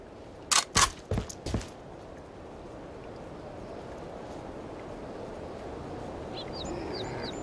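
Weapon reloading in the video game Killing Floor: a quick burst of four sharp metallic clicks and clacks, followed by a steady background hiss and a few faint chirpy sounds near the end.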